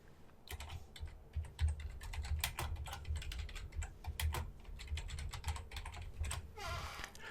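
Fingers type on a computer keyboard, a quick, uneven run of close, crisp key clicks with short pauses between bursts, ending in a brief rustling sweep.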